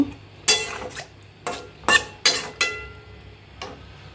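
A knife chops coriander leaves on a board in a home kitchen, sounding as about eight crisp, close chopping strikes in an uneven rhythm over a quiet background.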